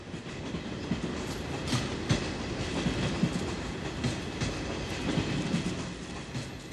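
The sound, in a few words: train running on rails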